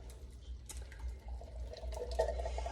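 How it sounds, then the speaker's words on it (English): Canned beans poured into an enameled cast iron Dutch oven for chili, giving a soft, wet sloshing and plopping with a few sharper clinks, close by and fairly quiet over a low steady hum. "And then we're gonna pour these in as well."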